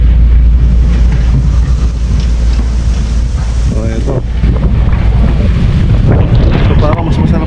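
Strong wind buffets the microphone with a loud, steady roar throughout near a bridge in San Juan, Batangas, and someone says a few words over it.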